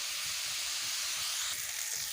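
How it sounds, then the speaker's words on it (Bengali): Young jackfruit pieces seasoned with salt and turmeric fry in hot oil, giving a steady, even sizzling hiss that carries on without a break at moderate loudness. "এঁচোড়গুলোকে ভালোভাবে ভেজে নেব।"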